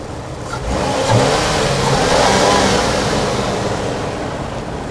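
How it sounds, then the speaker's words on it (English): A Nissan Skyline R34 sedan engine revs up strongly and holds a loud, steady roar for several seconds before easing slightly, close by with no talking. "we can give it a little rev and see how it sounds"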